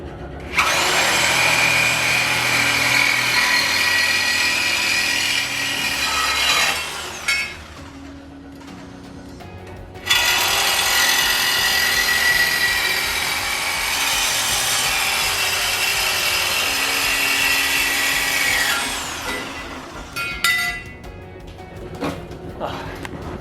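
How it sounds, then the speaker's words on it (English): Loud reciprocating saw (Sawzall) cutting through the front end of an MG car, two long buzzing bursts of sawing with a brief pause between them and rattling after the second cut. "Hey man, don't be scared of sawzall."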